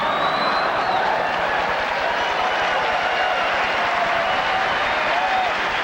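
An audience applauds steadily at a speech, a loud, even wash of clapping from many hands with no break.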